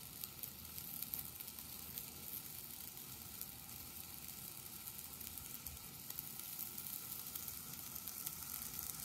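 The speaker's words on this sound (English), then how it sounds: "Yeah, you really hear that sizzle." An apple taken from snow in a home science experiment gives off a faint, continuous crackling sizzle, steady and even throughout with no voices.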